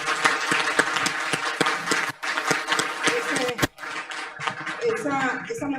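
An audience at a social media and journalism forum breaks into applause, clapping mixed with speech throughout and a brief pause midway.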